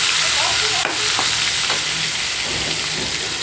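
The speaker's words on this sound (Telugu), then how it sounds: "ఇదిగోండి, ఉల్లిపాయ పేస్ట్ వేసుకుందాం." Onion paste hits a hot pan with a steady, loud sizzle and frying hiss that runs throughout, with a few soft stirring scrapes partway through.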